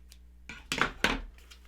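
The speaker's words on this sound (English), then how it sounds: "I'm going to cut the wired ribbon" Scissors snipping through wired ribbon while making a burlap Fourth of July wreath: a few short, crisp cuts heard close up, with no talking.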